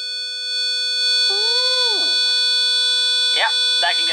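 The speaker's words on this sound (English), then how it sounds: "So that will be a 500 hertz tone." Loud, steady 500 hertz electronic tone from a sound amplifier circuit with a 10K resistor, a harsh buzzing whine that holds throughout with brief warbling sounds layered over it.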